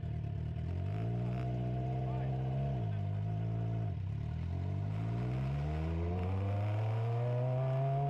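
A race car pulls out onto the track, its engine revving up and down through several gear changes in a loud, close drone that rises and falls, with a brief voice near the start.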